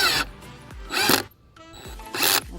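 A cordless power drill driving screws while assembling a Craftsman 7x7 shed, its torque clutch set to prevent over-tightening, gives short bursts of whirring and ratcheting clicks, three close loud pulses separated by brief pauses.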